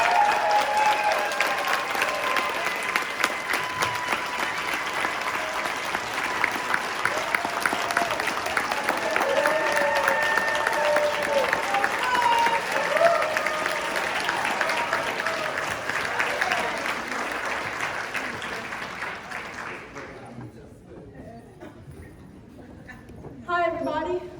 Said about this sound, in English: welcome him up with a big Master Investor Academy round of applause